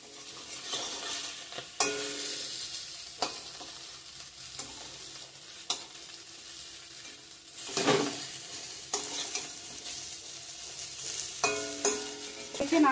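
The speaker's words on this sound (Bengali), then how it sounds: "পনিরটা এখন ভেজে নামাবো" Paneer frying in a hot wok, a continuous loud sizzle with repeated scraping stirs and bursts of crackling, no voices.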